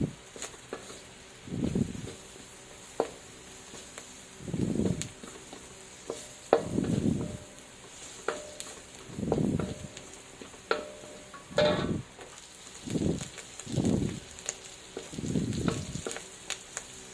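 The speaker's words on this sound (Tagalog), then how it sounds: "so halu-haluin lang natin para magisa at maluto yung bawang" Garlic for fried rice sautés in a pan, heard as repeated short bursts of sizzling as it is stirred, roughly every second or two, at moderate loudness with quiet gaps between.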